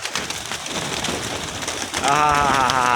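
Pigeons in a pigeon box coo and flutter close by in a steady, busy stream, with a voice talking over them toward the end.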